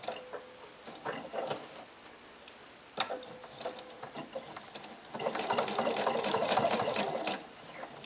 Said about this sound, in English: And lock or back stitch at the end.